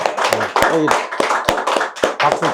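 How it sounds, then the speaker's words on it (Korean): A meeting on a stream restoration public forum ends in applause, with scattered claps and sharp hand taps mixed under voices talking close by, the speech dominating the clapping throughout. "오늘 박수로 마치도록 하겠습니다"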